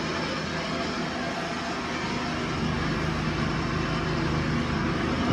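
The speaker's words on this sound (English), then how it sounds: "while he's going at it with his mower." Next door, a lawn mower cuts grass with a steady broadband engine drone that holds constant and moderately loud throughout, with no talk.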